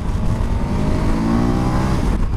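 A 2021 KTM 1290 Super Adventure motorcycle engine droning steadily while ridden sportily, a loud continuous near hum with layered harmonics and wind rush, no voices.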